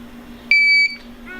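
A GZAIR SA103 portable carbon monoxide detector gives one loud, steady electronic beep of about a third of a second at startup, over a low hum, followed by fainter tones.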